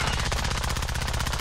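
Rapid automatic gunfire in the video game Call of Duty Modern Warfare, a steady, unbroken stream of loud, close shots rattling at an even, fast rhythm.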